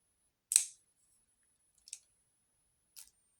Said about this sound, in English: Scissors, just cut off about to right there.